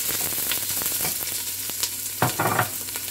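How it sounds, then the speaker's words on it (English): Chopped onion sizzles in hot oil in a pan after garlic for beef kare-kare, a steady close frying hiss with occasional stirring scrapes and bursts of crackle. "in goes our onion"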